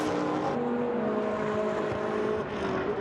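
GT1 race cars, a Lamborghini, Ferrari and Mercedes among them, roaring past at a Germany championship race, a continuous loud engine drone with rising and falling pitch.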